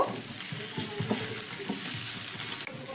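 Green chillies being stirred in a hot pan of oil, with a steady frying sizzle and soft scraping stir strokes throughout, close and moderately loud, no talking.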